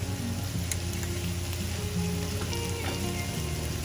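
Tomato and onion with coriander powder and turmeric frying in a pan, a dense, steady sizzle that holds at an even level throughout, close by, with faint scraping of stirring.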